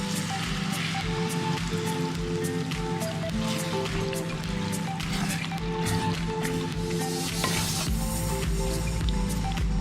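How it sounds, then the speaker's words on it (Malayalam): Coconut milk poured into a pan of cooked onions and tomatoes for a chicken curry, with steady sizzling, liquid splashing and stirring throughout, close and continuous with no talk. "ഇനി ഇതിലേക്ക് തേങ്ങാപ്പാൽ ഒഴിച്ചു കൊടുക്കുകയാണ്."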